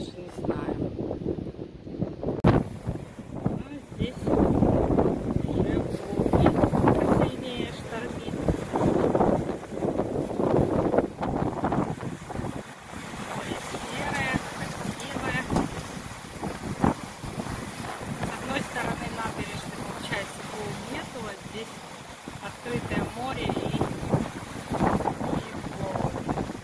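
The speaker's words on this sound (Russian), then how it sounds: "Так как сильный ветер сегодня," Strong storm wind gusts on the seafront embankment in Novorossiysk, roaring and buffeting the microphone with surf in the background, while a person talks throughout.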